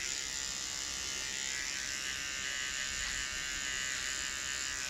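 A JRL 1040 trimmer running at close range, a steady, even electric buzz with no pauses and no voices.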